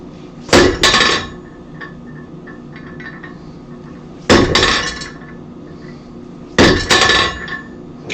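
A hammer strikes steel at a forge while a chisel is being shaped, landing in three separate bursts of loud metallic ringing hits spread across the stretch, with a low room hum between them.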